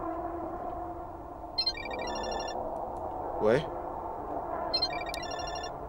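A phone ringtone sounds in short repeating electronic bursts, first around the middle and again near the end, moderately near, while people talk over and between the rings.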